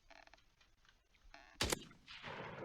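A single slow shot from a gun in the video game Project RWG, one sharp loud crack after quieter game sounds, followed by a lingering noisy tail.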